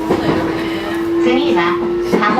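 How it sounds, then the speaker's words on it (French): Metro train running from Shin-Yokohama toward Hachioji in Japan, a steady loud rumble of the moving car with a sustained electric whine, while faint voices murmur in the carriage. "depuis Yokohama nous avons pris le métro et nous allons à Hachioji"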